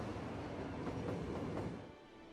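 A train rumbles past in Cities: Skylines, a steady close rolling roar with faint clickety rhythm that fades off over the last moment.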